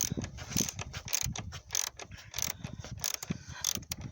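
A ratchet loosens an engine mount bolt on a Renault Laguna 3 coupé 2.0 dCi, giving quick repeated clicking strokes in short bursts, close and crisp.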